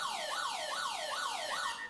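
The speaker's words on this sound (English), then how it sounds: "There's the halftime siren in the background." A wailing siren marks halftime at a National Touch League touch football match, rising and falling in a steady repeating sweep, fairly faint and heard from a distance.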